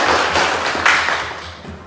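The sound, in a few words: audience clapping hands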